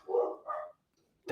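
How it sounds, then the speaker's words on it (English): Two dogs bark in quick succession at moderate distance, a pair of close, mid-loud woofs followed by a pause and the start of another bark. "dang dogs."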